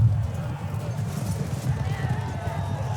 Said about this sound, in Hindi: ओके इसको एक घोड़ा मिल चुका है